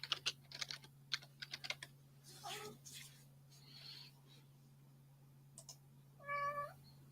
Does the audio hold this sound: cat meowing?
yes